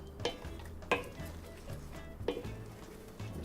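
Butter melts and sizzles in a pan for New Orleans barbecue shrimp, a faint steady frying hiss broken by a few soft clicks and scrapes as it is stirred, with no voices.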